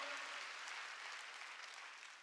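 A church congregation claps together during worship, a dense, steady wash of applause that stays fairly even and slightly fades toward the end.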